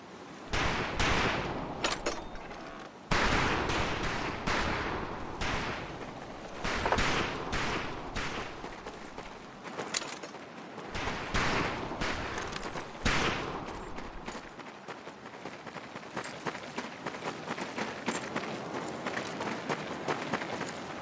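Rifle fire on a military training shooting range in the Medal of Honor Pacific Assault video game, a rapid string of loud, sharp shots that thin into scattered, fainter reports, with no talking.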